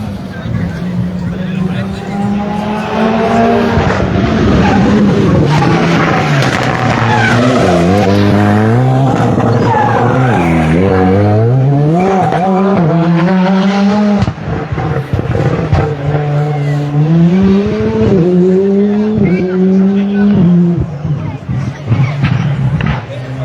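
Alpine GT+ rally car on a special stage spectator point, engine loud and close as it rises and falls through gear changes with tire noise, while an announcer talks over it.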